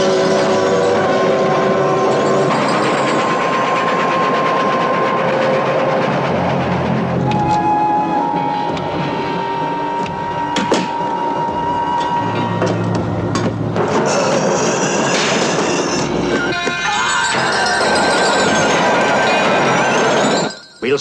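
A steam-era passenger train from the horror film Horror Express rumbles steadily along the rails, with clinks, metallic squeals and bursts of orchestral score layered over the continuous rolling noise.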